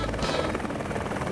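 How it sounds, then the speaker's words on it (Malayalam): A cartoon helicopter flies with a steady whirring buzz that stays loud and close for the whole short moment, with voices talking over it. "ഹലോ ബോസ്, മോട്ടു ഇവിടെ ഹെലികോപ്റ്ററിൽ"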